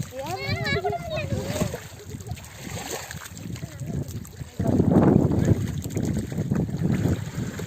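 A caught murrel fish thrashes and splashes in shallow village pond water, sloshing noisily close by in bursts, while people shout and talk excitedly over it and wind buffets the microphone.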